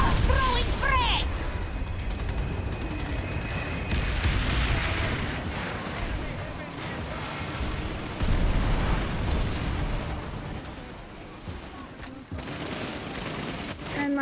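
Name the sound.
frag grenade explosion in PlanetSide 2 video game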